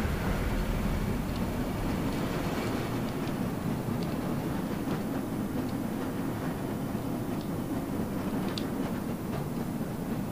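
Old rail system ride in the video game Black Mesa, a steady low rumbling train hum with faint clacks, continuous and even throughout.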